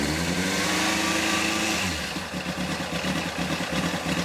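A motorcycle engine, fitted with a dent-damaged part and running on half choke, starts with a loud, close roar that then settles into a rhythmic, pulsing idle, with no voices.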